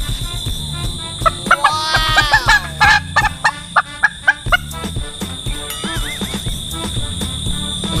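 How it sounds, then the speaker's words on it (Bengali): A domestic hen that is not laying eggs gives a run of loud, nasal clucks and gobbling calls, some short and choppy and some drawn out, heard close and alone with no talk. "দেখেন তো আমার মুরগিতে ডিম পারে না"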